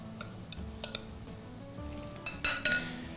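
A spoon stirs pork chop stuffing of dried fruit, golden raisins, salt, cracked pepper and buttermilk in a bowl, giving soft scraping with a few light clinks against the bowl, sharper near the end, and no talk.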